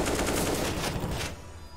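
Rapid automatic gunfire from the video game Counter-Strike: Global Offensive in a professional esports match, a loud dense burst of shots that stops abruptly, leaving quiet game ambience.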